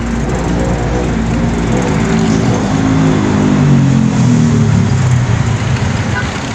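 Dense road traffic on a congested highway, with a steady broadband rumble of idling and slowly moving car and truck engines, loud and continuous throughout, and a voice speaking over it.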